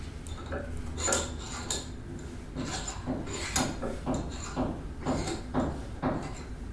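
Saw cutting off the excess end of a wooden axe handle, a close rhythmic rasp of repeated strokes growing more regular toward the end, with no talking.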